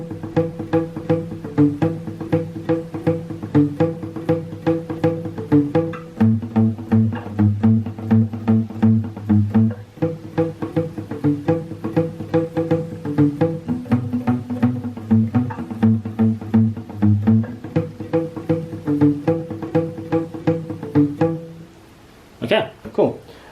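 A guitar plays a section of a song with steady rhythmic strumming and shifting chords, close and clear, ending with a brief scrape at the end.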